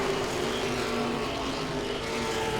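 Late model race cars circle Langley Speedway, with a dense, steady engine roar filling the air as the pack moves through lap traffic, loud and unbroken throughout with no voice audible.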